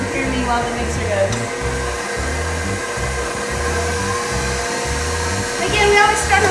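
Stand mixer beating yeasted beignet dough, a loud continuous motor whir with a rhythmic low thumping as the dough slaps around the bowl, running steadily and rising slightly toward the end.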